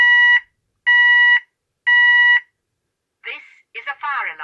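A Klaxon Nexus 110 fire alarm sounder gives three loud, steady electronic tone bursts with short gaps between them, then a recorded voice message starts right after.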